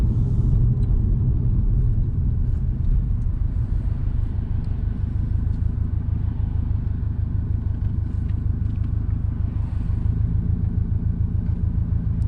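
Subaru STI exhaust and intake while driving: a deep, steady engine rumble heard from inside the car, droning evenly throughout without any talk.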